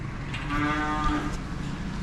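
A cow gives a single drawn-out moo of about a second inside a winter shed, close and clear against quiet shed ambience.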